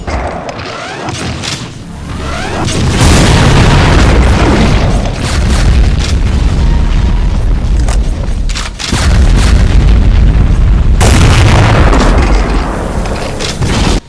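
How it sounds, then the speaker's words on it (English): Heavy, booming weapon blasts from the BFG in the Demon Tech mod for the Doom video game, loud continuous explosive roars with deep rumbling bass, briefly dropping away before another sustained barrage. "the Demon Tech BFG shots"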